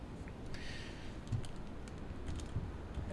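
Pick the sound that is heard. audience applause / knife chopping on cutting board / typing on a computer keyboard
typing on a computer keyboard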